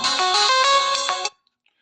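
A phone ringtone plays loud and close as a bright, repeating electronic melody with a pulsing rhythm, then cuts off abruptly and leaves near silence.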